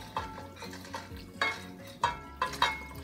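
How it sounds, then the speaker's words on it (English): A whisk stirs hot evaporated milk slowly into a flour mixture in a pot for a béchamel, making soft rhythmic scraping and swishing strokes with gentle sizzling, quiet and close, with no talking. "And whisk real slowly."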